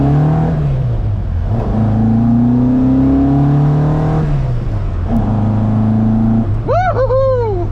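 A Ford Mk1 Escort rally car engine revs up loudly from close by, climbing in pitch through the gears in a sustained rising drone, then a sharp higher-pitched rev near the end.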